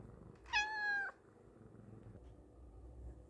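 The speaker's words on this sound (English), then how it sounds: "I had to stop giving that cat attention because it was just asking for more" A house cat meows once for attention, a clear, fairly close, drawn-out meow lasting about half a second against a quiet, low room hum.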